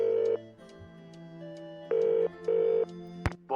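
A telephone rings in a pub-calling scene of a Nancy Drew mystery video game: a near, clear ring in repeated bursts with pauses between, followed by a click as the line is picked up.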